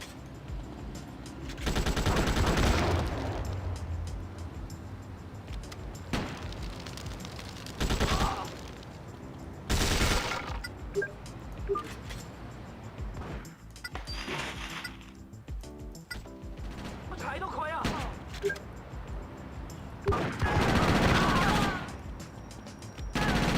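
Gunfire from an AK rifle in the GTA Chinatown Wars video game comes in repeated bursts of rapid automatic shots. Loud volleys are separated by brief lulls, with some game effects mixed in.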